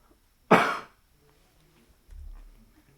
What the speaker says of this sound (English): I might pop the mic a little bit with my incessant coughing.